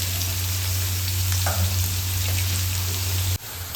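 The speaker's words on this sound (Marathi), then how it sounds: "कांदा चांगला फ्राय करायचा आहे तुम्हाला." Onion fries in a pan for leftover idli fry, with a steady, fairly loud sizzle over a low electrical hum that cuts off abruptly near the end. No one speaks.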